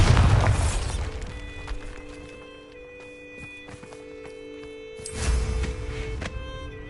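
A Bombarda blasting spell from Hogwarts Legacy bursts into a heavy booming explosion at the start, rumbles down into a quiet ambient hum, then a second loud boom erupts about five seconds later.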